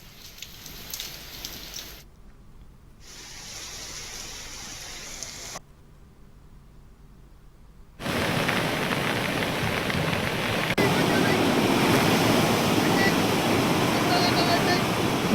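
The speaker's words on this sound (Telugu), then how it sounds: "పలుచోట్ల ఉరుములు, మెరుపులతో వర్షం పడింది." Heavy rain in Nizamabad hisses in a dense, steady downpour, quieter at first with brief gaps, then louder and fuller from midway, with no voices.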